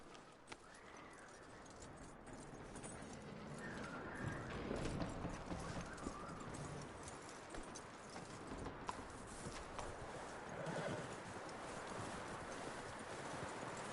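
Horse hooves clip-clop in Red Dead Redemption 2, a faint, steady walking rhythm over low background noise, with a soft neigh now and then and no clear speech.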